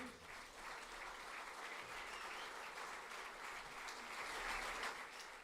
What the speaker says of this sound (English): a round of applause for His Excellency Turki Al-Sheikh.